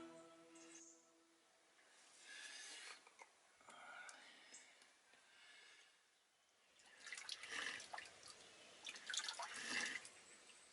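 Spring water at St Cynidr's holy well (Ffynnon Gynydd) above the Wye Valley drips and trickles outdoors, soft at first, then splashing louder and closer near the end as water is collected.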